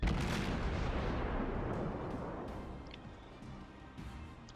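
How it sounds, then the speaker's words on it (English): The main guns of the destroyer Shimakaze fire in World of Warships, a loud booming blast that rolls off into a long fading rumble, with a fainter thud near the end. "Since I'm in smoke, I can just fire freely."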